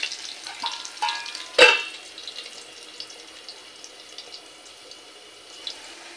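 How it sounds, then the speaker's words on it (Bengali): Potato pieces fry in oil with a dried red chilli, browning for a fish and vegetable curry: a soft, steady sizzle, with one sharp clatter of stirring early on, then quieter crackling. "মিনিট দিয়ে আলুটাকে একটু লাল করে ভেজে নেব।"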